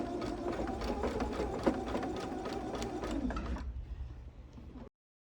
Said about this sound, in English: I'm going to be sewing all of the rows together